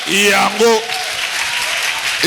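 Church congregation applauding and calling out in acclamation during a sermon, a short burst of clapping mixed with raised voices close by.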